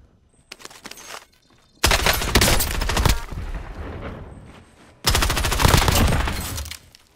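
Video game shootout with bursts of rapid gunfire, a faint shot early on, then a long loud volley of fast shots and, after a short lull, another sustained loud burst before it cuts off.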